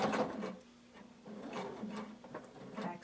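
A sewing machine back stitches the seam of a hooded tunic, giving short bursts of rapid mechanical stitching that stop and start, heard close and without talk.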